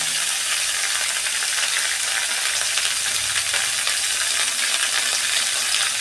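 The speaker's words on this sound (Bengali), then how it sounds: "সবজিগুলো আমি একটু ভেজে নেব" Vegetables—stems, potato and eggplant—fry in hot oil with a steady, dense sizzle that holds at an even level throughout, close and loud, with no voices.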